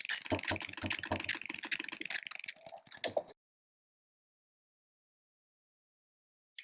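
Sewing machine stitching a zipper onto a pillow panel, a rapid close mechanical patter of needle strokes for about three seconds before it stops, followed by silence.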